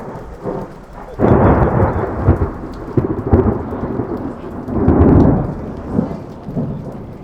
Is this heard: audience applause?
no